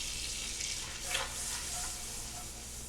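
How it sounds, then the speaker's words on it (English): Flour is whisked into a roux for mac and cheese, a soft steady sizzle with a brief scraping swell of the whisk in the middle, quiet and close. "And for this, you want to whisk."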